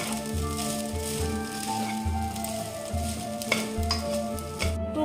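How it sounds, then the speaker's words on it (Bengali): Egg chicken rice is stirred and mixed in a pan, the spatula scraping in a steady repeating rhythm over a continuous sizzle, close and moderately loud with no talking. "ভালো করে মিশিয়ে দিতে হবে ভাতের সাথে।"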